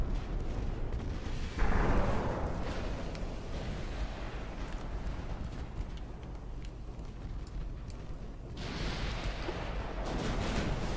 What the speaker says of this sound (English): Erin scoring hits on the massive battleship formation.